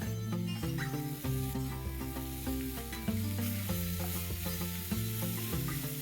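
Onions sautéing with a teaspoon of salt in a pan for dhaba-style paneer masala, a loud continuous sizzle with scraping stirring strokes over low background music, close up and without speech.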